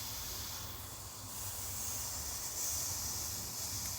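Steak sears on a Gotham Steel grill with a steady, soft hiss and a faint low rumble underneath, close and even throughout.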